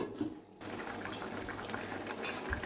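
Fish curry of small mourala fish with green tomato, turmeric and salt boiling in a covered pan, giving a quiet, steady bubbling and simmering with small pops, no voices.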